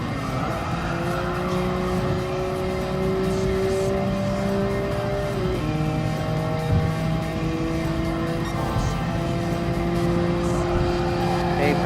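A Nissan R33 Skyline GT-R racing in Gran Turismo Sport: a loud, continuous engine drone that holds steady pitch, drops at a gear shift around the middle, then climbs again, with faint tyre squeal mixed in.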